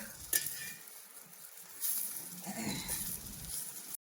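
Ambadi leaves roast in a pan with a soft, steady sizzle and occasional stirring scrapes, faint and close, with no voices.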